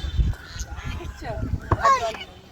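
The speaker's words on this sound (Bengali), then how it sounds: "রাজহাঁস" Geese give a few short, nasal honks near a flood-prone river where plants drift on the water, the calls brief and fairly close, mixed with low background rumble and scattered voices.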